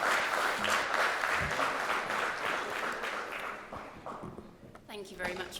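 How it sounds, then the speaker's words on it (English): Audience applause for a speaker at a legal-framework seminar, a dense clatter of clapping that gradually thins and fades, with a voice starting to speak near the end. "Can we have a round of applause for Ms."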